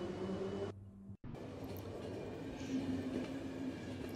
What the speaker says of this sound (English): On the good old Bell S07, our trusty train.